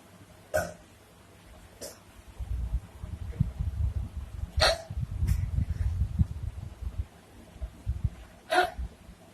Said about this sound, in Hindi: मुझे हिचकियां भी शुरू हो जाती हैं